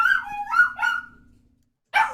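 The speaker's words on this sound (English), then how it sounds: "This announcement from Deo's dog." A dog gives a few yelping barks in quick succession, then falls silent before one more short bark, fairly close and alone.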